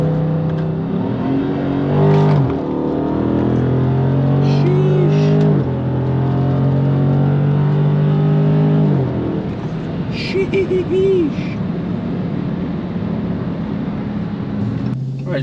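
A 2020 Dodge Charger Scat Pack with freshly serviced rear differential pulls away on a test drive, its engine rising and shifting through gears in a steady interior drone while people talk over it.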